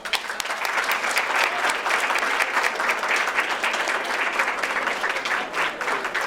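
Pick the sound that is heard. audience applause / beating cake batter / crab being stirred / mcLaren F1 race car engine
audience applause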